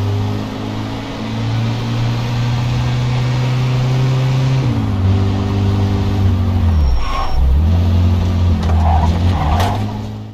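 Car engine in the Mafia II video game, a loud steady drone that holds pitch, dips sharply twice as the car slows and revs, with faint tire or brake squeals near the end.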